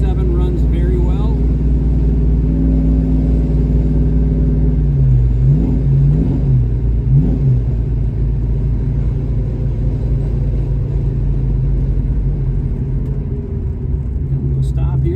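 A 347 stroker V8 in a 1967 Ford Mustang Fastback drones steadily while driving, a deep low rumble with a couple of brief revs, and someone talking over it throughout.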